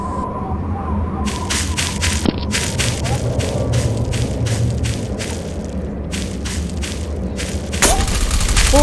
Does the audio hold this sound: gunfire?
yes